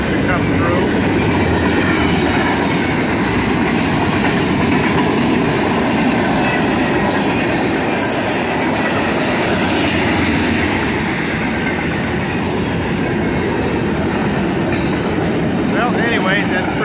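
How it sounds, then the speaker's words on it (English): A long freight train of fuel containers, grain cars, box cars and open gondolas rumbles steadily past up close, wheels clacking and a faint squeal rising near the end, with a voice talking briefly over the noise. "Fuel containers, grain, there's a grain car, box cars, open gondolas, the whole works."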